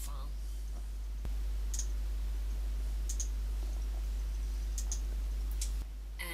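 Computer mouse clicks while working in FeeFlow modelling software: a handful of faint, sharp, isolated clicks spaced irregularly over steady room hum, with a voice narrating quietly.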